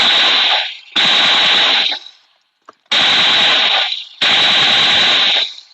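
Bursts of full-auto hip fire from a pistol in PUBG Mobile crackle loudly and close, with three sustained volleys each lasting about a second and separated by short silences.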